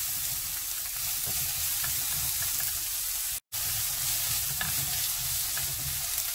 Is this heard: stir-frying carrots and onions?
yes